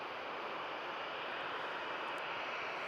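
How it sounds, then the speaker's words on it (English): An EasyJet Airbus Neo jet arriving at Manchester Airport from Berlin gives a steady, broad engine roar that holds evenly throughout, with no voices over it. "In from Berlin, this next arrival, EasyJet Neo."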